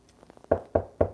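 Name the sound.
knocking on wood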